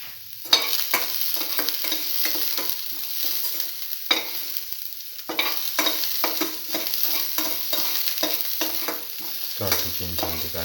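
Ginger and garlic fry in a pan, a steady sizzle throughout with repeated scraping strokes of a spoon stirring them, close and continuous without talk.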